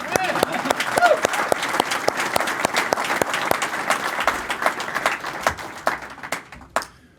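Audience clapping during a speech at a Friendly Sons of St Patrick gathering, a fairly dense round of hand claps with voices mixed in, thinning toward the end.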